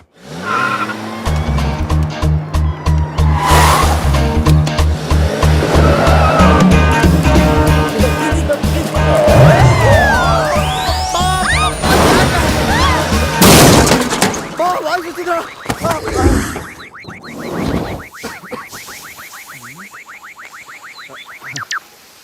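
Car crash in a Telugu comedy film scene, ending with the bumper coming off: loud tire screeching, crunching impacts and clattering metal, with voices heard among the noise.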